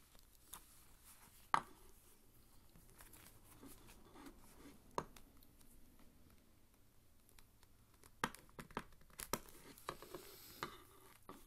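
Scissors snip across the shirt of an Elite 26 Road Dogg action figure, with quiet sparse clicks and a few sharper cuts near the end, close and faint with no talking.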